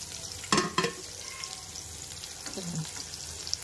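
Garlic and curry leaves fry in a pan with a steady sizzle, broken by a couple of sharp stirring clatters near the start and a softer scrape later.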